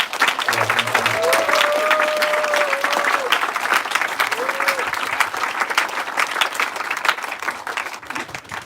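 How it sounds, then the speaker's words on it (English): Sustained crowd applause for event organisers at a robotics competition awards ceremony, dense steady clapping that gradually thins toward the end, with faint voices mixed in. "So huge round of applause."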